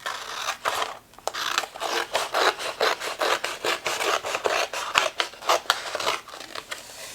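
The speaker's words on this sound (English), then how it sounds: "Now I'm going to cut with my scissors on this other long edge." Scissors snip through paper while trimming a long edge of a scrapbooking mini album page, a quick series of crisp, close cuts in a steady rhythm with no talk.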